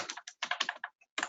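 Quick typing on a computer keyboard, with close, crisp key clicks in short irregular bursts separated by brief pauses.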